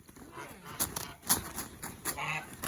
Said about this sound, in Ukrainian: дивіться, качори, як б'ються